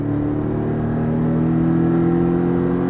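Porsche Cayman accelerating hard on a race circuit, a loud, close, steady engine drone rising slightly in pitch throughout, heard alone without voices.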